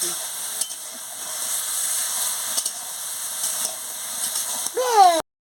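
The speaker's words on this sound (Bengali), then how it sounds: "সরষে বাটা লঙ্কা বাটা দিয়ে দিচ্ছি দিয়ে ভালো করে মশলাটাকে কষিয়ে নিচ্ছি" Bitter gourd sautéing with mustard paste and chili paste for a Bengali chorchori, a steady close sizzle with occasional stirring knocks, ending in a brief rising whine before cutting out.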